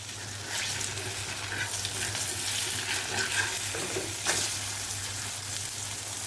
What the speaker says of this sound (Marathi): दोन्ही साइडने आपल्याला चांगलेसे खरपूस फ्राय करून घ्यायचे आहे।